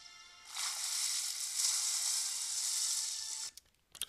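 Water sloshing and streaming as Jesus rises from baptism in a film, a soft, continuous rushing splash lasting about three seconds, then a few brief drips and splashes before quiet.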